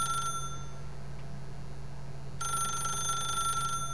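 A telephone rings in The Stanley Parable, a high electronic trill in two bursts separated by a pause of about two seconds, over a steady low hum of room tone.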